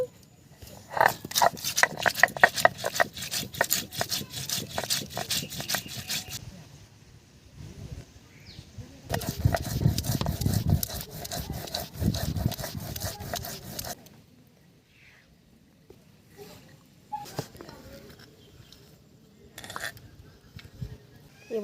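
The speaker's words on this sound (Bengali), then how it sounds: "মশলাটা বেটে নেব সর্ষে জিরে ধনে এখানে আমি বেটে নিচ্ছি" Spices being ground on a grinding stone: mustard seeds, cumin and coriander crushed with repeated scraping, rolling strokes, close and fairly loud in bursts, pausing between passes, with someone speaking over parts of it.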